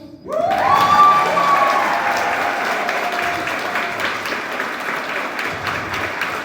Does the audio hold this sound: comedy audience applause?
yes